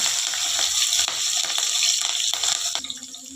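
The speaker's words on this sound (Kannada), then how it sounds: "ಮೆಣಸಿನ್ಕಾಯಿ ನಾನು ಐದು ಸಣ್ಣ ಉದ್ದದ್ದು ಕಟ್ ಮಾಡಿ ಇಟ್ಕೊಂಡಿದ್ದೀನಿ ಅದು ಹಾಕ್ಕೊತೀನಿ ಸ್ವಲ್ಪ ಫ್ರೈ ಮಾಡ್ಕೊಳ್ಳೋಣ" Five small, long-cut green chillies sizzle in hot oil in a pan while cooking ridge gourd tove, making a loud, close, hissing crackle with scattered pops that eases toward the end.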